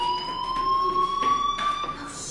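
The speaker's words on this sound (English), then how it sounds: "Hey, do you hear that fire alarm?" In the video game Life is Strange, a school fire alarm rings with a continuous, slightly wavering electronic tone, pulsing in loudness with no speech over it.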